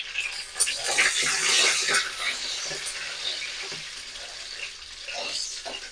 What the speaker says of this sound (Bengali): এই কাঁচা লঙ্কা ভাজার সময় অল্প একটু লবণ দিয়ে দেবো